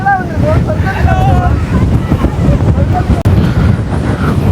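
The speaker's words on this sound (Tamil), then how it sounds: "குளிர் காற்று உங்களை அடிக்குது" Cold wind gusts steadily at a Sri Lanka mountain viewpoint, a loud continuous roar buffeting the microphone, with a voice talking faintly under it.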